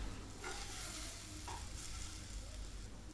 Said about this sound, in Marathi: पॅनमध्ये सगळे कबाब टाकून घेते आणि पलटत पॅनच्या साईडला कच्चा भाग लागेल असं पलटत त्याला शिजवून घ्यायचं आहे, फ्राय करून घ्यायचे